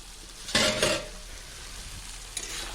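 Fish masala frying in a pan with two close bursts of sizzle and stirring, then a quieter spell and another short sizzle near the end, heard alone without talk.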